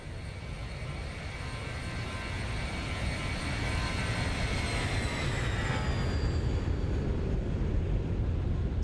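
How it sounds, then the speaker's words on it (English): A Boeing 737-800 accelerates in X-Plane 11 with a broad, steady engine roar and faint whining tones that rise and fade, growing slightly louder throughout. "There's the airplane accelerating."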